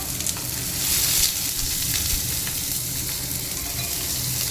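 Food fries in a pan for a duck-egg curry, producing a loud, continuous hissing sizzle with low bubbling underneath, close up and steady throughout, no voices.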